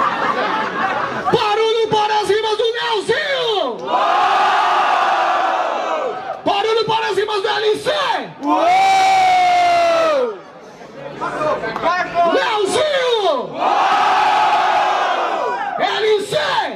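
A crowd at a rap battle cheers and shouts loudly in repeated waves, with whoops and hollers rising and falling close by.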